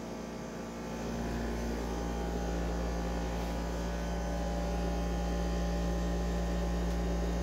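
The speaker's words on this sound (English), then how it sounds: "This is a dehumidifier that's supposed to be quiet. Instead, it's really loud. And it's rumbling the whole floor." A dehumidifier meant to be quiet runs loudly indoors with a constant deep rumbling hum and steady mechanical drone that shakes the floor, unchanging throughout.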